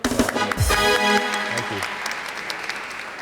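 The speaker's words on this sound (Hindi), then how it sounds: "तालियां डीनो की" A talk show studio audience applauds guest Dino Ali. A brief voice and tonal sounds open it, then a burst of clapping swells and slowly thins out, fading by the end.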